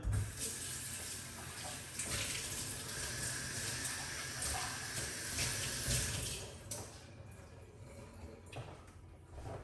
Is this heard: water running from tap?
yes